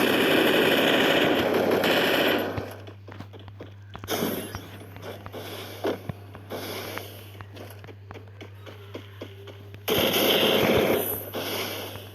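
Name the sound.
gunfire in the video game Free Fire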